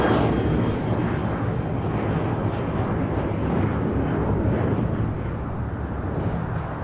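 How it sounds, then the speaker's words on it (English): An American Airlines Boeing 737-800 jet departing LAX for Las Vegas, its engines a loud, steady roar that fades slightly toward the end, with no talking over it. "That was American Airlines Flight 2388 heading to Las Vegas and the 737-800."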